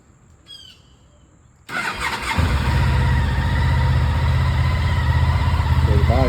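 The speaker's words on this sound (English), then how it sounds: "I'll be glad to let you hear a cold start on this bike" A 2003 Honda ST1300 ABS motorcycle fires up from a cold start after a quiet moment with faint birdsong, then settles into a steady, close, rumbling idle.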